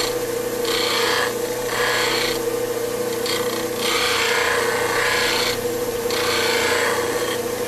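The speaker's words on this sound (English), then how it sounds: "Turn the grinder on and simply ride it across it a couple times until I've refreshed my honing angle" A bench grinder sharpens a woodturning skew chisel in rhythmic passes, a loud rasping scrape that swells and eases as the blade rides across the wheel over a steady motor hum, with no talk.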